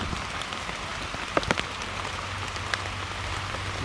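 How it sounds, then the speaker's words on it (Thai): Rain falls in a forest during mushroom picking, a dense, even patter on leaves and ground with a few nearby drops and splashes standing out, no voices. "ฝนตก"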